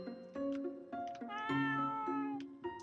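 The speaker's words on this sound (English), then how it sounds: "that's a cat apparently" A cat in the video game Rakuen meows several times in quick succession, clear and close, with short tonal calls rising and falling and no talk over them.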